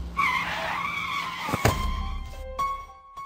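A car at night swerving out of control on a sharp bend, its tyres squealing in a long wavering skid that peaks in a sharp screech before fading into a lower rumble.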